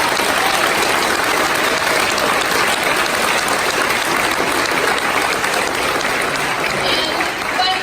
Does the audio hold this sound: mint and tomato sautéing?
no